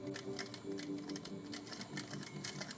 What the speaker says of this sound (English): Let's backstitch a little bit more.